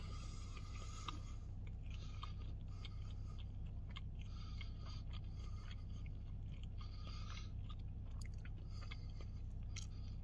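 Quiet, close biting and moist chewing of a loaded brisket bagel with sauce, steady mouth sounds running throughout over a low, constant background hum, with no talking.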